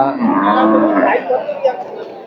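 Cattle low loudly and continuously at a busy livestock market in Amraid, Gazipur, Bangladesh, where large dairy cows are for sale; the deep moos carry on with faint crowd chatter behind.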